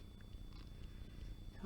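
A cat purrs in a low, steady rumble, very quiet and close, with no voices over it.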